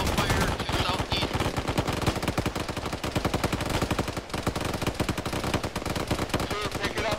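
Sustained machine gun fire in the Arma military video game, a dense rapid rattle of automatic bursts running for several seconds at steady loud level, with occasional brief gaps.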